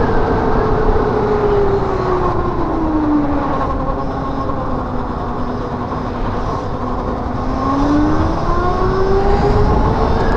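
A DAB e-RS electric motorcycle accelerating at full throttle, its motor whine rising and falling in pitch over a loud, constant rush of road and wind noise.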